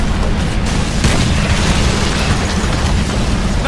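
An artillery round strikes a target in Call of Duty 3, a loud, sustained roaring boom with rumbling debris that fills the whole stretch, with no voices over it.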